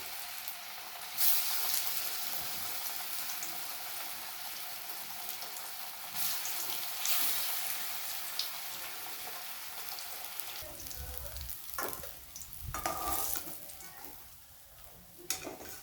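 Raw jackfruit kababs fry in a pan with a steady, moderately loud sizzle, joined near the end by a few sharper clatters and handling noises.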